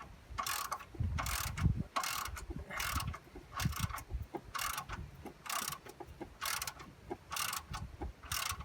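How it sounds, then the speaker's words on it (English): Ratchet wrench clicking in repeated bursts of rapid ticks, close and fairly loud, while a water pump is changed on a 1995 Ford EF Falcon GLI, with clunks of tools and engine-bay parts underneath. "Ratchet."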